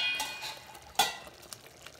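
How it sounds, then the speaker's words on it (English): A spoon stirs thick butter masala gravy in a pan, giving soft scraping strokes with a few sharper taps against the metal and a faint sizzle beneath. "We'll give it a good stir."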